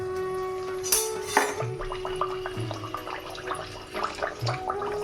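Small pieces of food dropped one by one into hot oil for a breakfast dish, giving a bubbling sizzle with scattered crackles and light clinks of utensils.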